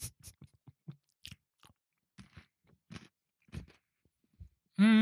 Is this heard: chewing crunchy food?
yes